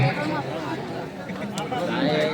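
Dense babble of a packed crowd of spectators at a village kabaddi match between Gajanan Sangharsh Kelshi and Jay Hanuman Anjarle at Palande, Dapoli, a steady continuous hubbub with no distinct single voice.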